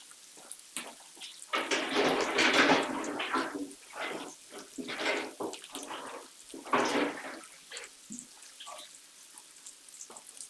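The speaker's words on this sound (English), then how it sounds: "we'll just clear up and wash my hands" Hands washed under a running kitchen tap while cleaning up after making salmon fishcakes: hissing, splashing bursts of water that start and stop several times, close and fairly loud.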